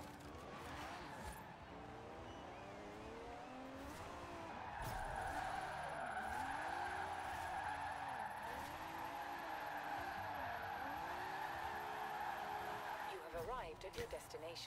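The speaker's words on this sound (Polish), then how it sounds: "bardzo mi się podoba to auto w drifcie" A car in Forza Horizon 4 holds a long drift, its tires squealing steadily under a revving engine, while someone talks over the sliding car throughout.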